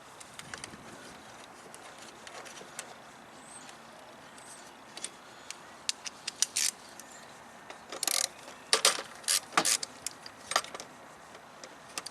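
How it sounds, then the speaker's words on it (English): A 10mm ratchet loosening airbox bolts on a 2008 Honda Civic Hybrid, faint clicking and metallic clinks with brief sharper bursts later, close up and quiet, no talking. "Now simply using a 10mm and loosen these two bolts here that hold the bottom half of the airbox on."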